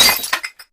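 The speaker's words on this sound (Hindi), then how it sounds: "गलती से ग्लास टूट गया" A drinking glass breaks close by with a bright shattering crash, followed by a couple of small tinkling fragments settling as it fades to silence.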